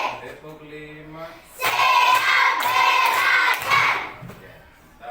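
After a voice speaks, an elementary school class breaks into a burst of rapid group clapping for an ice-breaker game, loud and close for about two seconds before fading.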